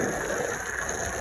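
Water sprays steadily with a dense, hissing wash as winter storm grime is rinsed off a 2003 Toyota Celica GT, close and continuous with no talking.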